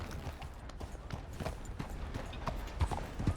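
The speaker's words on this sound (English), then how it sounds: "There's my horse." Horse hooves clip-clop steadily in Red Dead Redemption 2, a close, even walking rhythm of soft thuds over a low ambient bed, with a couple of sharper footfalls near the end.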